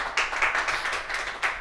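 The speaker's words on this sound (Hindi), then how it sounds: "एक बार जोरदार तालियां होनी चाहिए" Audience applause at a live music gathering, a burst of lively hand clapping from a modest crowd, fairly close and steady, swelling again near the end.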